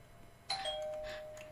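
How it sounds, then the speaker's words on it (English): A two-tone electronic doorbell chime rings once in a Roblox game, a clear ding-dong that rises sharply and fades over a faint background hum. "Ding dong."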